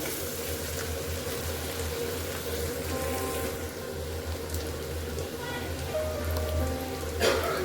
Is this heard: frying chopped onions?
yes